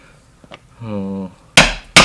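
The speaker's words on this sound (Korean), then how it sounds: "그 다음에 치즐로 구멍을 내줍니다." A leather chisel struck with a hammer to punch stitching holes in natural leather for a tote bag: two sharp, loud, close blows land about a third of a second apart, after a brief voiced hum.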